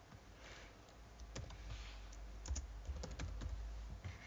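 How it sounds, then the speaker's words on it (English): Fingers tapping on a computer keyboard while text is added to a web page, with irregular bursts of close, crisp key clicks running throughout and a quiet background hum. "Typing in."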